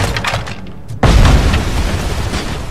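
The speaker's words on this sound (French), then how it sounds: "Il lance des grenades" Grenade blast in Robocop: Rogue City, a sudden loud boom hitting after a moment of quieter background, followed by a sustained rumbling roar.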